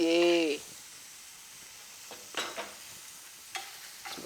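Onions dry-fried in a pan without oil give a short loud burst of hiss at the start, then sparse scraping stirs over a faint sizzle.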